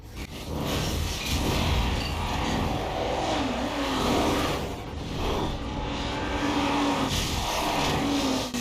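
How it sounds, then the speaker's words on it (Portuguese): Ferrari Formula 1 race car at the Nürburgring, a loud continuous engine roar with rising and falling revs as the car drives on, steady and close throughout. "Nas primeiras voltas, a Ferrari de Lauda perdeu o controle, bateu nas barreiras, voltou para a pista e aquilo aconteceu."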